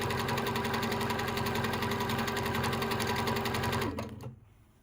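A sewing machine runs fast and steady while free-motion quilting filler stitches, a loud continuous mechanical whir with rapid needle pulsing that stops abruptly near the end.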